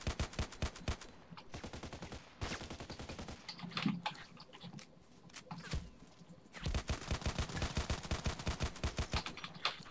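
Rapid automatic fire from an X95-R rifle in the video game Contract Wars, with fast bursts of sharp shots broken by short pauses and some quieter in-game sounds between.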